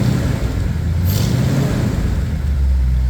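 Short bursts of revving from a Ford F100 truck engine fitted with glass pack mufflers, a loud mid-pitched roar rising and falling close by with no talking.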